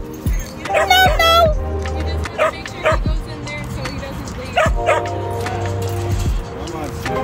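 At a dog park, dogs bark and yip in repeated sharp bursts, close and loud, mixed with people talking and calling over them.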